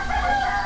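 A brief rooster crow in the village of Udoga, Mogilev Region, Belarus, loud and close, a single short call cut off abruptly.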